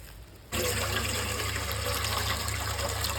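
Water pours into a basin, a steady rushing splash that starts abruptly after a brief quiet moment and continues loud and close to the end, with no voices.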